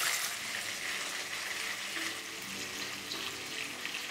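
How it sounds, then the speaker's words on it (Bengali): Bhetki fish fillets frying in a pan, a steady close sizzle with a watery hiss running evenly throughout, no voices. "এবারে একদিকটা ভালো করে ভাজা হয়ে গেলে পাল্টে নিয়ে অপর দিকটাও ভালো করে ভেজে নিন।"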